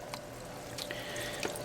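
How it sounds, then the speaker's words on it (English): Water flows into the fish tank of a homemade lava-rock aquaponic garden as a soft, steady trickle with faint drips, quiet and close. "Alrighty, got some water coming in"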